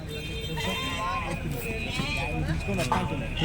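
Goats at a crowded goat market in Kadiri bleat repeatedly, a few wavering cries rising over steady bargaining talk and general crowd noise.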